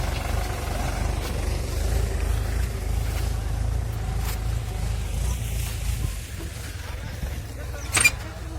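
A farm tractor running during fodder chopping gives a steady low engine rumble from a moderate distance, with faint background voices and a brief louder clatter near the end.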